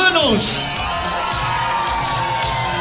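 Party crowd at a Mother's Day festival event making noise with whoops, yells and cheers, a dense continuous din with shouting voices layered over music throughout.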